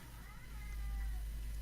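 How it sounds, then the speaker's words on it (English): Cats meow outdoors at a distance, thin drawn-out calls faintly audible over a low steady hum. "I got cats going ape shit out there."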